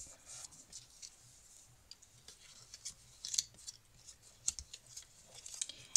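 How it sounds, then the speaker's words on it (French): Fold lines scored on a die-cut paper card, a series of faint, sharp scraping clicks close up against a quiet background. "Ici, vous marquez vos plis."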